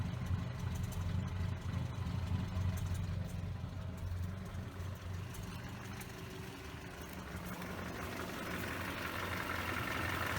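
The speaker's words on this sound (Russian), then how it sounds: "нужно завести машину и дать ей прогреться до рабочей температуры" Carbureted Volga GAZ-24 engine fitted with an LPG system idling steadily while warming up to operating temperature, a low, even mechanical hum with light rattle, heard close and continuous with no talking.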